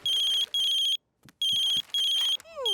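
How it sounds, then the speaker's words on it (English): A mobile phone ringtone rings in a cartoon, bright electronic tones in repeated bursts with short gaps, loud and close, ending in a sliding chirp. "Daddy forgot to take his phone. Grandpa's trying to call him."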